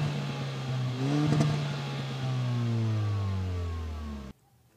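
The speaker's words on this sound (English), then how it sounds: "dual exhausts that don't only look good, they sound pretty good too." A Kia Forte Turbo GT's engine revs through its dual exhausts and holds, its pitch rising then easing off before cutting out abruptly, loud and close with no voices.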